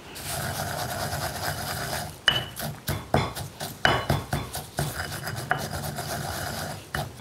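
Hot toasted rice is pounded in a mortar with a pestle, a run of repeated gritty thuds and grinding scrapes at a quick, uneven rhythm, close and moderately loud, with no talk.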